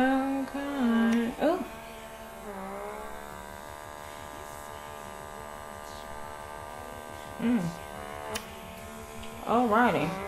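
An electric pore vacuum suction device runs on a face, producing a steady buzzing hum throughout while a person talks intermittently over it with exclamations.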